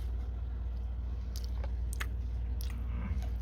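Chewing fried eggplant slices (begun bhaja) at a Pohela Boishakh new year meal: quiet soft crunchy bites, a few sharp crisp clicks scattered over a steady low room hum.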